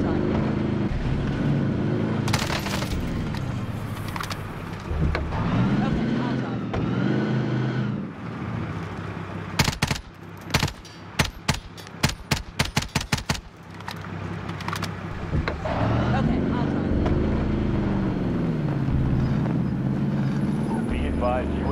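A vehicle engine drones steadily in Warzone, the military battle-royale game, rising and falling as it drives, broken midway by a burst of rapid sharp cracks before the motor hum resumes loud and close.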